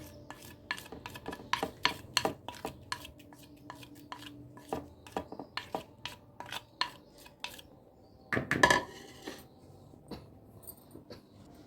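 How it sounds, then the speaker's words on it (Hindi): Spices being mixed into butter chicken karahi, a spoon scraping and clinking repeatedly against the pot in an uneven rhythm, close by, with a louder burst of scraping near the end. "तमाम मसाले हम अच्छे से मिक्स करेंगे इस तरह से"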